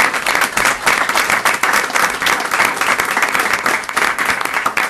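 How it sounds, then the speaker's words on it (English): Sustained audience applause fills a school board meeting room, dense and steady for several seconds, with a faint murmur of voices mixed in. "let's give them a round of applause right now anyways"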